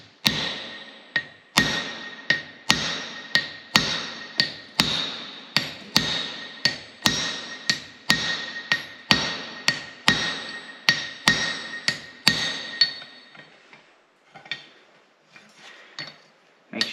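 Repeated hammer blows on hot steel while forging blacksmith V-bit tongs, a steady rhythm of sharp ringing strikes close by for about twelve seconds, then a few lighter taps trailing off, with no talking.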